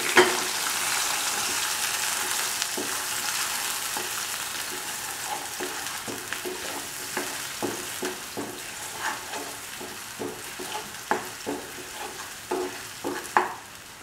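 Onion, tomato, spice and ginger-garlic pastes frying in hot oil for a soya chunk kofta stew, a steady sizzle with repeated soft scraping stir strokes that grow more frequent toward the end.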